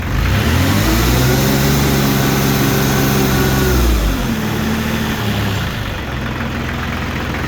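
A diesel engine runs loud and close with a little throttle applied, its rough droning tone rising then easing back toward idle about halfway through, with no talking.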